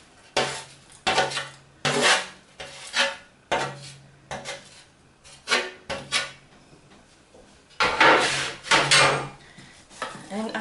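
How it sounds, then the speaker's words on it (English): Roasted asparagus and preserved lemon tipped into a bowl of quinoa, heard as a run of close, loud clatters and scrapes of utensils against the bowl in irregular bursts, with no talking. "I'm going to go ahead and dump that in with the quinoa"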